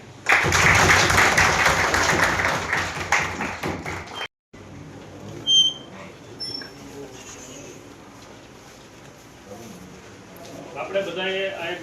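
A meeting hall at Kodinar municipality erupts in loud crowd clapping to welcome the new municipal president, lasting about four seconds before cutting off abruptly, followed by quieter room noise, a few thumps and people talking.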